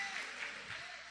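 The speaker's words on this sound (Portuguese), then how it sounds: "Aplauda bem forte ao Senhor." Church congregation applauding during a Good Friday sermon, a brief burst of steady, dense clapping from many hands filling the room, with a voice faintly underneath.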